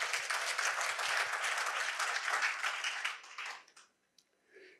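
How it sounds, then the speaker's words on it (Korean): An audience at a university lecture event claps together, warm sustained applause for about three seconds that thins out and fades to near silence, followed by a faint trailing sound. "박수 한번 주십시오"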